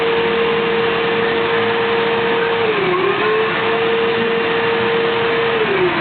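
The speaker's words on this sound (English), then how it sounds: "No more vacuuming." A household vacuum cleaner runs steadily and loudly at close range, its motor whine holding one pitch with a brief dip partway through and another near the end.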